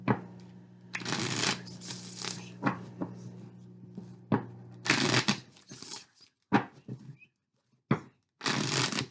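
A deck of Mystic Moon Oracle cards is shuffled up close in repeated loud riffling bursts, each separated by short pauses and taps.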